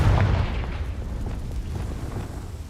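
A Confringo spell explosion in the video game Hogwarts Legacy, a loud booming blast at the start that decays into a lingering crackling, rumbling tail.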